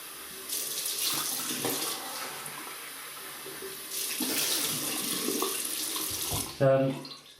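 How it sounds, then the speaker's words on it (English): Water runs from a bathroom tap as someone rinses off after a shave, a steady close rush that swells and eases with splashing changes before cutting off near the end, followed by a brief clatter. "So I'm just going to rinse off."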